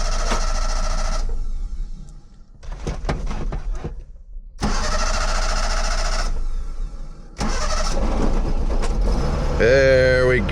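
A truck engine, boosted by a jump box, cranks in several bursts, pausing between attempts, then catches and runs with a steady rumble near the end.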